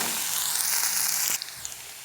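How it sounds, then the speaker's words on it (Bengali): Onion and garlic sizzle steadily in hot oil for dal, a dense close frying hiss that drops in level partway through, with a few small pops after. "দিয়ে দিচ্ছি পেঁয়াজ আর রসুন, একটু লাল করে ভেজে নিব।"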